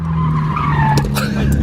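A convertible tuned Renault Twingo's tyres squeal and skid loudly under the handbrake, a sustained close scrub over the running engine, with no one talking.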